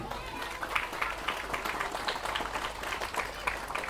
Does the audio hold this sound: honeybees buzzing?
no